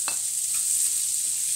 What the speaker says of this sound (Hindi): मैंने इसे 2-3 मिनट भूना है